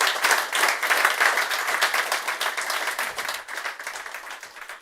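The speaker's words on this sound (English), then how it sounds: "Please, can we have another round of applause for Nariman?" Audience applause at the Ubuntu Summit 26.04 fills the room, a steady wash of many hands clapping close by that tapers slightly toward the end.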